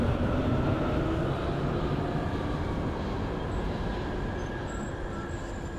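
A subway train runs in the simulator Train Sim World's U-Bahn Frankfurt: a steady, loud, broadband rumble of rolling wheels and motor hum, with faint high squeals and a gradual slight fade and no talk.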